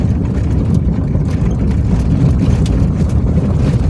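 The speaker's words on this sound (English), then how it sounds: "I have no idea if you can hear me or not with all that rattling noise" Constant loud low rumble inside a Jeep XJ while driving, with dense rattling and road noise throughout and no voices.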